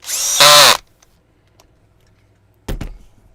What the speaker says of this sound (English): just grab a wheel nut and a proper driver and just tighten them up at the end so they're nice and tight